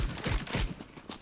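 Rapid gunfire in Counter-Strike: Global Offensive, a quick burst of five or six loud sharp shots in close succession, then a single fainter shot near the end.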